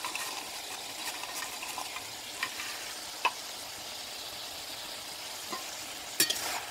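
Pui shak curry with fried puti fish simmers and sizzles in a pan with a steady, moderately quiet hiss, broken by a few faint clicks and scrapes of stirring, and no talk.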